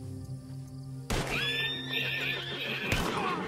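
A horse in Red Dead Redemption 2 gives a loud, rising whinny that begins abruptly partway through and runs to the end, with a second sharp burst near the close, laid over a steady low game hum.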